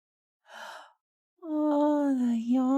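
A breathy exhale is followed by a long, drawn-out voiced yawn, close and clear against silence.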